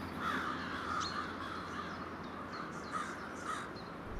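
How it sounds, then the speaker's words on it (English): Several crows caw repeatedly in a city, harsh calls at irregular intervals, some close and some farther off, over a steady urban hum. "Crows ward off predators by mobbing"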